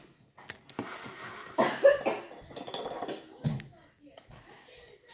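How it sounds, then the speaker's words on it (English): A person coughs a few times in quick, close bursts, with some throat clearing and rustling around them. "I need a cough."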